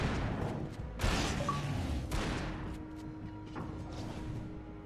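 Grenade and flashbang explosions in Alan Wake 2 boom out in a few sharp bursts with decaying crackle, each blast fairly close and loud, separated by short gaps.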